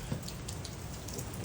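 Steady rain falls outdoors, a dense, even patter of drops on surfaces with a few slightly louder splashes, continuous and fairly faint throughout.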